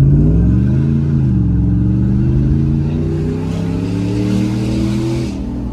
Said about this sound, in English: You can hear the supercharger whine a little bit there.